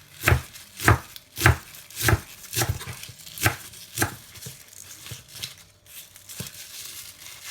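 Destemmed kale leaves are chopped on a board with a knife, giving a series of crisp, crunchy strikes, loud and evenly spaced at first, then softer and quicker, with no talking.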